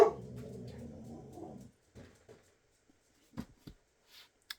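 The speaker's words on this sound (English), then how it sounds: "There's my dog." A pet dog makes a short whimpering, whining sound up close indoors, followed by a few faint scattered bumps and small noises after it stops.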